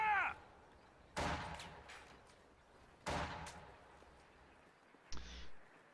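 Friendly-fire gunshots in a strategy game: three sharp, loud separate bursts spaced about two seconds apart over quiet background, with a short final burst near the end.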